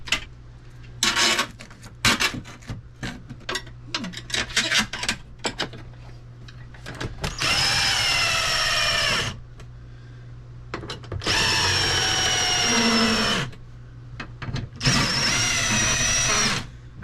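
A power drill bolts a rooftop RV air conditioner back into place, with scattered clicks and handling knocks first, then three long, loud whirring runs separated by pauses.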